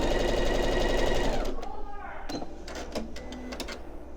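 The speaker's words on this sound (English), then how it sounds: "And then I can keep sewing like normal." A sewing machine stitches quilt fabric in a fast, even whir for about a second and a half, then stops, leaving faint clicks and handling sounds.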